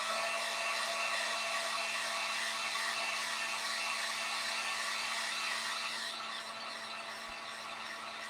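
A hair dryer blows steadily and close, drying yellow paint on a wooden candy corn craft, a constant whooshing hum with a slight change in tone near the end.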